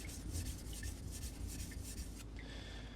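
A Japanese kitchen knife being finished on a 3000-grit whetstone gives a steady, close rasping rub that runs continuously with no talking.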